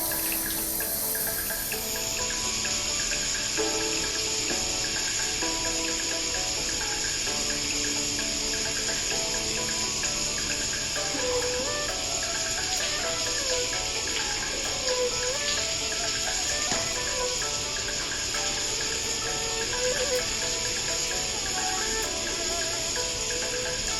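A shower running before a sauna and pool night, a steady, loud hiss of spraying water continuing unbroken throughout, with faint shifting tones beneath the rush.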